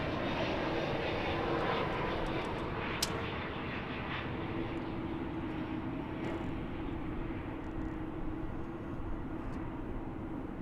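An airplane at DFW Airport, heard from an outdoor plane-spotting spot, gives a continuous distant jet roar with a faint steady drone that holds level throughout, plus a few faint clicks and no speech.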